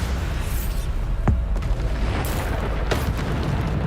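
Bombarda spell explosion in the Hogwarts Legacy video game: deep booming blasts over a constant low rumble of battle, with a sharp burst near the middle and another toward the end.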